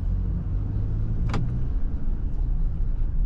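A 2025 Chevrolet S10 pickup with 207 horsepower and an eight-speed automatic accelerates gently, producing a steady low engine rumble close by, with one brief high squeak partway through.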